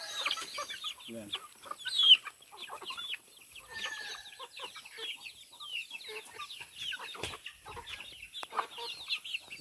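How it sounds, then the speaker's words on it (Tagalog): Farmyard chickens and a rooster cluck and call repeatedly at close range at a rural home, with busy overlapping bird chatter and occasional faint background voices. "So yan guys ang ating mga chicken."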